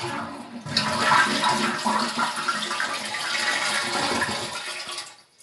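Toilet tank flushing after a leak repair: a loud rushing swirl of water rises quickly, holds steady for several seconds, then tapers off as the bowl drains, with no speech.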